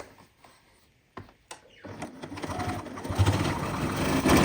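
A sewing machine stitches a fabric tube for a scrunchie wristlet key chain, starting after a few quiet clicks and building into a steady, close mechanical whir that grows louder toward the end.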